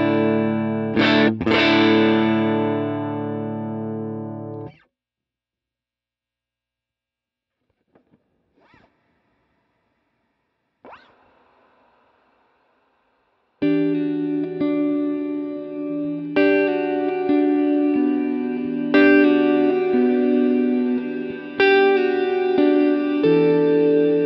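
Processed guitar tones through an Eventide Blackhole reverb pedal: a loud distorted chord rings out and stops, a few faint plucks and a swelling wash follow a near-silent gap, then a full sustained reverb-soaked passage plays on without voices.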